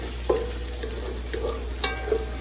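Fresh garlic fries in a pan with a soft continuous sizzle, punctuated by several short utensil scrapes and stirs, while a dishwasher runs in the background.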